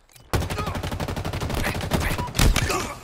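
Rapid gunfire in Halo Infinite, a dense burst of fast repeated shots lasting over two seconds, loud and close, with a heavier blast near the end.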